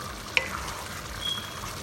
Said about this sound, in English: Just stir this around.